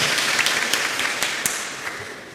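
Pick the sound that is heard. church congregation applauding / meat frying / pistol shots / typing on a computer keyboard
church congregation applauding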